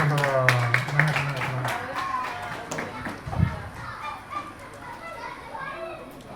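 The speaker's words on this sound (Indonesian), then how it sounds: "Tepuk tangan dulu." Scattered clapping from a crowd at a regional organization ceremony in Bali, mixed with children's chatter and voices and fading after a few seconds.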